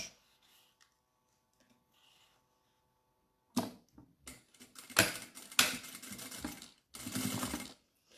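A sewing machine stitching along the edge of a small bag, starting after a quiet stretch with uneven bursts of rapid mechanical whirring and rubbing fabric, close and fairly loud.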